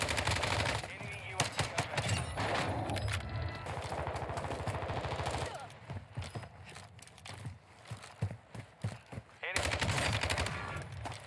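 Rapid bursts of M16 rifle fire in Call of Duty Warzone on Ashika Island, from a one-burst class setup, crack loudly in repeated volleys, with someone talking over parts of the shooting.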